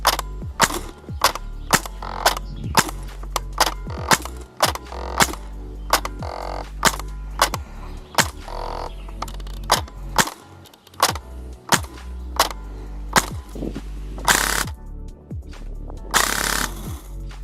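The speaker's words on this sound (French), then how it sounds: "Test de tir de ma M249 Para GEP Custom by Gearbox Custom Airsoft." A G&P M249 Para airsoft replica with a full custom gearbox upgrade fires in repeated bursts, each a rapid, loud mechanical rattle of shots with brief gaps between them, heard up close and without speech.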